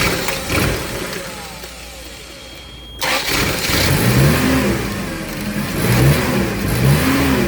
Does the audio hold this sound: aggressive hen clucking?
no